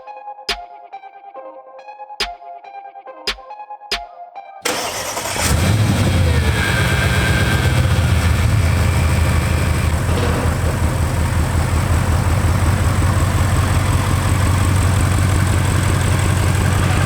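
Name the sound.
Audi RS7 with ARMYTRIX exhaust starting and revving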